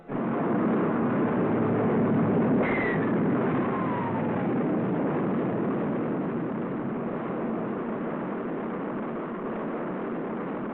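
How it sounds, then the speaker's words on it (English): A Mercury rocket lifting its capsule off the pad in Call of Duty: Black Ops Cold War, a steady broadband roar that holds loud and then slowly fades, with a brief rising whine near the start. "The rocket performs perfectly as it lifts the funnel-shaped capsule gracefully aloft."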